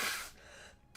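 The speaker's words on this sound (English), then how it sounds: "Sorry, I'm sneezing." A single sharp sneeze from a streamer bursts out loud at the start, then trails off into a quieter breathy tail with a brief sound at the very end.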